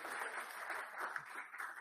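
An audience at an Olympic delegation press conference applauds in a dense, continuous patter of clapping that holds steady at moderate volume throughout.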